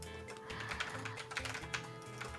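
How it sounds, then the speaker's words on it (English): Rapid, irregular tapping on a computer keyboard runs steadily throughout, fairly quiet and close, with no voices over it. "I hear somebody tapping on the keyboard."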